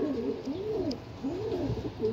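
Pigeons cooing repeatedly in soft, rolling calls close by at a loft, where racing pigeons are awaited on their return from a 113 km training toss from Muñoz, Nueva Ecija; low steady background, no talk.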